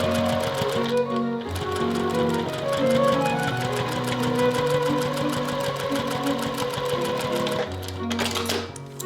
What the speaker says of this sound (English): We are just going to sew as close to the edge as possible, back stitching when you start and finish.